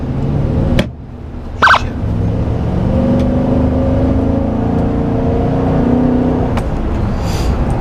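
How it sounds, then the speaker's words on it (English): Nissan Titan pickup truck with factory stock exhaust revving, a deep engine note rising and holding steady with a brief dip early on, loud and close; a voice briefly mutters. "I want to do some exhaust work on this truck."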